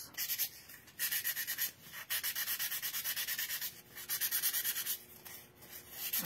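Gentle sanding of a drawing's cheeks with sandpaper, soft rhythmic scraping strokes repeated in several runs with short pauses between, faint and close, no voices.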